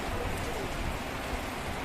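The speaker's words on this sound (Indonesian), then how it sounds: "Ini suasana hujan." Rain pours steadily in a forest, a dense, even hiss of drops with no break and no other sound rising above it.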